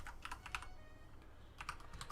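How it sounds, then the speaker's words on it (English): Typing on a computer keyboard while music is being transcribed, soft clustered keystrokes in quick bursts with a pause in between, faint and close with no talking. "typing things in"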